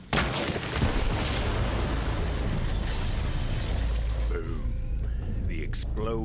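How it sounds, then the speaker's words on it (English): A loud, rumbling bomb blast in the video game Borderlands 3, set in a forest, with crackling debris that slowly fades, followed by a few faint voices near the end. "explosion echoed through the forest"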